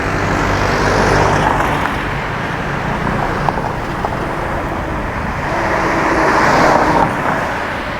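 Steady street traffic on a Bangkok road, a continuous roar of cars, trucks and buses passing nearby with no break, swelling slightly louder toward the end.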